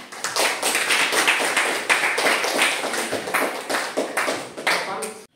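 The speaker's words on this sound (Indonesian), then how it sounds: "Tepuk tangan dulu." Schoolchildren clapping together in a classroom, a loud burst of sharp, uneven hand claps that stays strong and busy for several seconds before cutting off abruptly.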